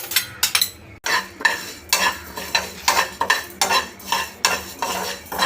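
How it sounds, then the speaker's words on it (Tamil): A metal utensil stirs moong dal being lightly fried in a pan, giving a rhythmic series of scraping, clinking strokes, roughly two per second, close and clear, with a faint sizzle beneath. "லேசாக வறுத்துக்கணும்."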